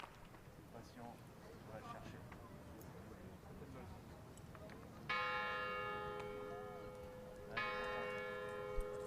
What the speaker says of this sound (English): Blocking out the tolling bells.